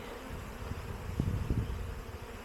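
A honey bee swarm gathers at a hive set up by an apple tree in an apiary, giving a soft continuous buzz with a few brief louder passes close by.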